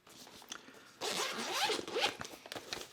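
A zipper on a textured, water-resistant stabilizer storage case is pulled open in a couple of close, scratchy strokes, the longer second pull rasping louder after a brief quiet start.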